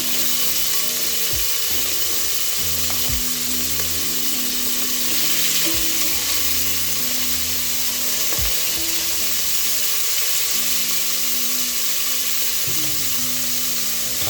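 Beef and ginger sizzle steadily in hot oil for a beef stew, a continuous loud frying hiss with occasional clicks and scrapes of stirring throughout, no talking.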